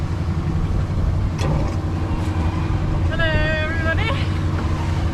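A sailboat pushes at 8 to 9 knots through the choppy Alderney Race. A steady low engine-like drone and the rush of water carry on throughout, and a voice calls out briefly near the end.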